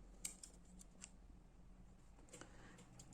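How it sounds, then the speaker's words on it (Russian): Straight scissors trim the edges of a cold porcelain piece, giving a few faint, close snips and clicks spaced irregularly over a quiet room background. "Обрезать я буду прямыми ножницами."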